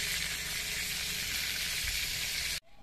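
Oil sizzles steadily in a kadai after prawns were fried in it, a dense continuous crackle that cuts off abruptly near the end.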